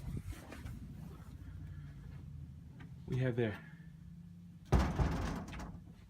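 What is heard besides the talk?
door being opened in an office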